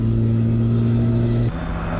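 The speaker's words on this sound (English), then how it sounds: "On the ground, the vehicle drives like a sports car." PAL-V One flying car, a personal air and land vehicle, driving on the road like a sports car; a steady, close engine drone with strong low tones that shifts abruptly partway through.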